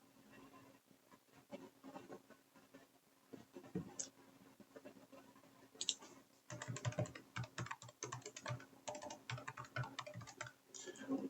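Fingers type an email address on a computer keyboard, with quiet scattered key taps giving way to a denser, steadier run of clicks, heard close and fairly soft.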